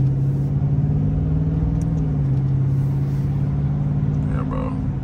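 Road traffic heard from inside a Dodge Charger: a steady, loud engine rumble with a low drone that dips slightly midway, continuous throughout, with faint voices underneath.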